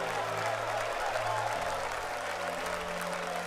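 A church congregation clapping during worship, a dense steady wash of hands over low sustained instrumental tones, continuous throughout.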